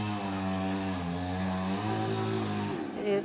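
A machine saw cutting dry tree logs outdoors, a steady loud droning engine whine that shifts pitch as it bites into the wood, running throughout.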